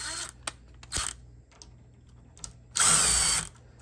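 A power drill running in reverse to unscrew a door handle plate, with short whirring bursts and one longer, louder spin close by, separated by quiet handling.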